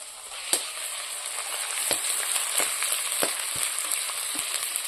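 Ginger paste frying in a pan with onions for a Bengali chicken giblet curry, giving a steady close sizzle with occasional sharp spatters and stirring scrapes throughout.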